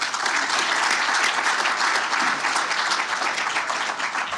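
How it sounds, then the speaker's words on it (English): Audience applause at an outdoor baseball plaza dedication ceremony, a dense steady crowd clapping sustained throughout without pause, loud and full. "So I'd like to give everybody a round of applause"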